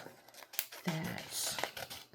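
Scissors snip through craft vinyl for a Cricut project, a brief soft crinkly cut with light crackling, quiet and close.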